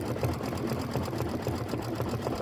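A Kimberbell embroidery sewing machine stitches a clover design, giving a steady, close, continuous mechanical whir with a rapid needle rhythm throughout and no talking.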